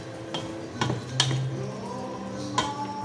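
Spoon stirring pork adobo with potatoes in a pan, producing soft scraping and a few sharp clinks against the pan over a faint sizzle.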